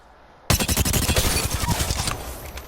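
Rapid automatic fire from the Volt SMG in Apex Legends, a loud, dense burst of sharp shots that starts abruptly and runs continuously for about two seconds before tapering off.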